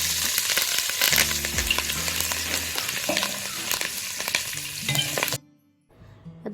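Oil left over from frying beef sizzles steadily as curry leaves crackle and fry in it, with stirring clatter throughout before the sizzle cuts off abruptly near the end.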